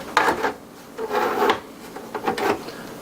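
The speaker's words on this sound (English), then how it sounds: "Now we can go ahead and put the cover back on." A metal cover slides back onto an EmpireTech NVR case in a few short scraping strokes, a rubbing, rasping slide repeated about three times at close range, with no talking.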